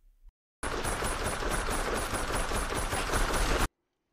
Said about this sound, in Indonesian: dia pun langsung nembakin temennya ini